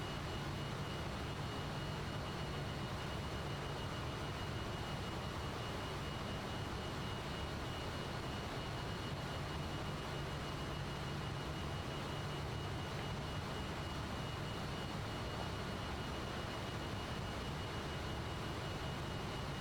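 Steady broadband cockpit drone of a Fokker F28 jet's engines in Microsoft Flight Simulator, a constant, even roar with no changes across the whole stretch and no voices.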